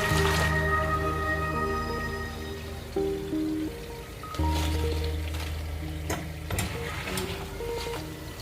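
Sliced Kerala raw banana chips fry in hot oil with a soft, continuous sizzle and bubbling, broken by a few stirring clinks, under a faint steady electrical hum.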